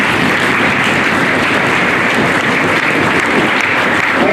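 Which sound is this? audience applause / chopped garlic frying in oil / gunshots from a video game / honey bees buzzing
audience applause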